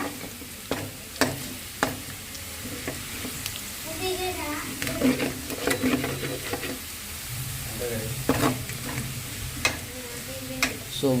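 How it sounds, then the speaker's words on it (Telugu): Potatoes and carrots fry in a pan while being stirred, steady sizzling broken by scraping spoon strokes and clinks against the pan, with people speaking over it at times. "మనం కట్ చేసి పెట్టుకున్న వెజిటేబుల్స్ అనేది దీంట్లో వేసుకోవాలి ఏమిటి అంటే బంగాళదుంప క్యారెట్ ఇదిగా మేము బంగాళదుంప ఫ్రై చేయబోతాం"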